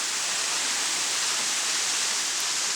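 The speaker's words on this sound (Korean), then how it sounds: "높이 20여 미터에서 떨어지는 물줄기는 바위 틈을 흐르며 맑은 기운을 더해주는데요." The Sangsa waterfall, dropping about 20 metres over rocks along a forest trail, gives a loud, unbroken, broadband roar heard close up with no talking.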